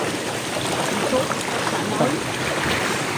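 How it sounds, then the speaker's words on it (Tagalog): Strong floodwater current flowing during a typhoon, a steady broad rushing wash heard outdoors, continuous and fairly loud, with faint voices in the background. "ang lakas na ng baha dito. Ang lakas na ng agos."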